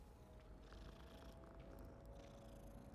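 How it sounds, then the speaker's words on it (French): A cat in the video game Hogwarts Legacy purrs as a faint, steady low rumble that carries on alone throughout, very quiet in the mix. "Oh le chat."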